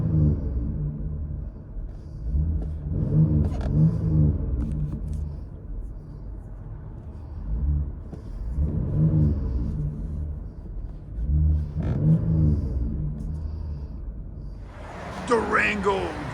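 Cabin sound of a 2022 Dodge Durango GT with a 3.6L V6 and the rear resonators deleted: a deep, droning exhaust rumble that swells in several waves as the engine pulls, with a voice heard near the end.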